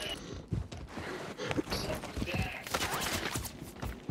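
Scattered gunfire in a Call of Duty match, rapid irregular bursts and cracks that crowd together in a busy exchange, heard at moderate distance without speech.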